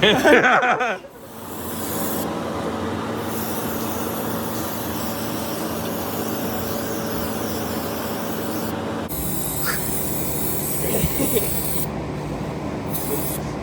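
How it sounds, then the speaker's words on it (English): Brake cleaner sprays onto car parts during an engine swap on a G37 in one loud, continuous hiss lasting nearly the whole clip, with a short pause and a brief rattle near the start. "When it's the boss's brake cleaner."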